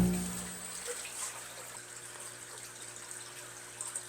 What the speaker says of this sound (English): And the water starts to pump from that bucket